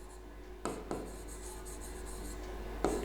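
Marker or chalk scratching on a board as a teacher writes about suspended type galvanometers, a few short strokes over a low steady hum, close and fairly quiet, with no speech.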